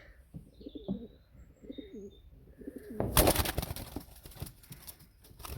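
Soft, low cooing from breeding pigeons repeats in the first half, followed by a burst of rustling and flapping that continues to the end, on a frosty day.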